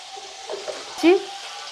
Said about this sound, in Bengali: এবার আলুটাকে আমি নাড়তে থাকছি।